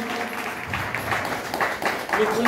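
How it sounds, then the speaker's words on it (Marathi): A gathering of devotees claps at a community event, a steady patter of applause mixed with voices, swelling slightly toward the end. "टाळ्या वाजवा, सगळ्यांनी टाळ्या वाजवा।"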